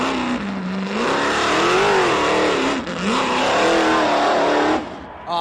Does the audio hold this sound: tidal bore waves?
no